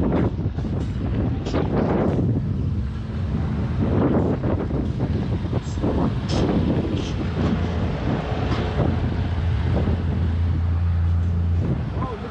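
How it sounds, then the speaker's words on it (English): Strong wind buffets the microphone at a Jamaican fishing village in Portmore, a constant loud roaring rumble throughout, with a person speaking intermittently beneath it. "It's real windy over here."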